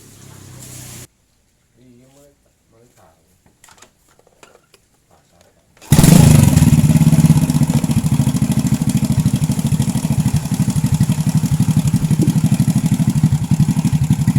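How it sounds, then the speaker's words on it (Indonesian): A Honda motorcycle engine starts and runs at a loud, steady idle after a quiet stretch with faint clicks and handling noises. Someone speaks briefly at the start. "Ini untuk pengecekannya sambil dihidupkan motornya."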